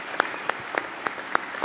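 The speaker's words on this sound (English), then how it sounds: "you can applaud for those names" An audience at a Philadelphia faith and freedom summit hosted by AM 990 and 560 WFIL applauds for the named radio hosts, with sparse, scattered claps that pop out at irregular intervals over a quiet hall.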